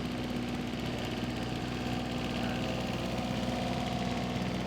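A late-1980s John Deere 332 lawn tractor engine idles steadily nearby, a constant low throbbing hum with a slight knocking texture and no talk.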